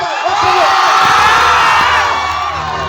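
A crowd at a comedy stage programme in Purulia lets out loud, high wavering ululation and cheering, dense and sustained close to the listener, with clapping mixed in underneath.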